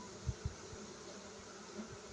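Honeybees hover around a hive fitted with a pollen trap that blocks their entry, making a faint, steady buzz with a few soft low thumps close by.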